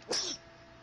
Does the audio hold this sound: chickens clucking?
no